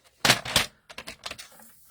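Strip of card paper being cut down on a paper trimmer, giving two sharp slicing strokes followed by a run of lighter scraping and clicking sounds, close and fairly loud with no talk.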